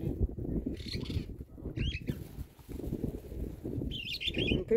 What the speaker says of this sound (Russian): Смотри, какая там птица пришла.